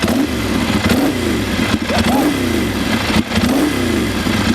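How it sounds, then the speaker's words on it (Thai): A Ducati 795 motorcycle exhaust revs close and loud, with three rising throttle blips in a row over a rough, throbbing engine rumble, and no talk. "ฟังเสียงท่อก่อนดีกว่า ฟังข้างหลัง"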